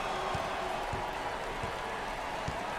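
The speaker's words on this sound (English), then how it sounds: "This is an enormously tense crowd" Steady, dense crowd murmur fills a basketball arena in NCAA Basketball 10 during a 2003 Texas versus 1988 Southern tournament game, with a few soft thumps of bouncing balls or footsteps rising through the constant roar.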